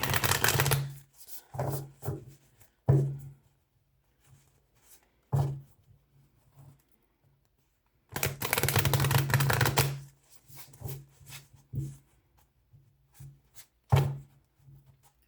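Bursts of tarot card shuffling, riffles and soft flutters repeating at irregular intervals, close and crisp, with quiet pauses between them.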